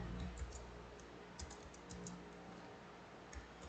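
A formula tapped out on a computer keyboard in a quiet room: soft, scattered keystrokes in short irregular bursts, faint and close, with no voices.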